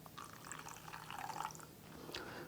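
Warm water is poured from a cup onto sugar in a kitchen bowl, a faint, quiet trickle and splash lasting a couple of seconds.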